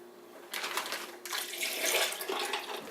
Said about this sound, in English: And then we are gonna dump in this water.